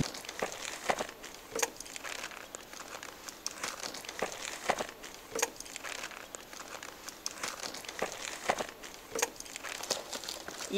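A Banggood shipping parcel is unwrapped close up, with continuous crinkling and crumpling of plastic packaging and sharp tearing bursts at irregular intervals, and no talk.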